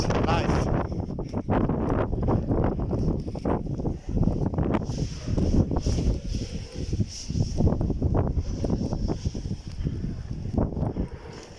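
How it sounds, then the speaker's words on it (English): Strong gusting wind buffeting the microphone on a walk along the Costa Brava coast at El Far d'Empordà, loud irregular rumbling surges that swell and drop repeatedly throughout. "That's the wind. You hear it live."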